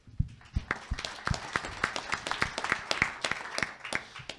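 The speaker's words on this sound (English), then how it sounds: "let's give you all a round of applause" Audience clapping at a political candidate forum for state treasurer, a moderate burst of many hands with irregular sharp claps spread across the whole stretch, fairly close and steady with no voices on top.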